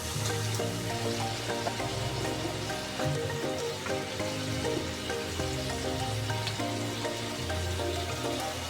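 Potatoes frying in spiced oil for a curry with karela and khalla fish, a steady, even sizzle with faint pops throughout and no talking.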